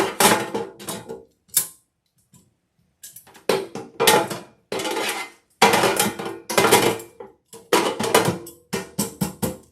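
An air fryer basket being handled and repositioned in a kitchen: repeated short bursts of metallic clatter and scraping, separated by brief silent gaps, close and fairly loud.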